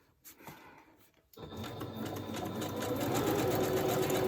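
A sewing machine running a zigzag stitch starts up after a quiet moment with a faint click. It then hums and rattles steadily and close, getting slightly louder as it goes.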